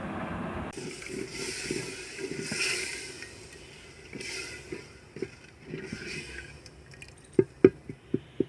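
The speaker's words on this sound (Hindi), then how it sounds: "पानी डालेंगे।" Water poured into simmering moong dal in a village kitchen makes a hissing, bubbling rush, followed by several distinct drips and spoon clinks near the end, quiet and close.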